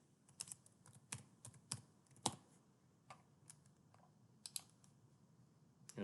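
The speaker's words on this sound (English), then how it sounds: "So I'm just going to type in the password that I had." Sparse, separate keystrokes on a computer keyboard as a password is typed, with crisp clicks spaced by short pauses over a quiet background.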